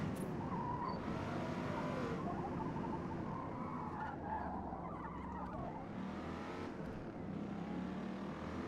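A '67 Corvette in the racing game Forza Motorsport drifts around a track, its engine droning steadily as tires squeal and skid through long slides, loud and continuous with no talk.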